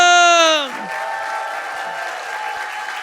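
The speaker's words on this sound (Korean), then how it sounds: "박수 함성!" A voice shouts briefly before steady applause from the audience at a scholarship award ceremony in the National Assembly members' hall. The clapping continues evenly at moderate loudness.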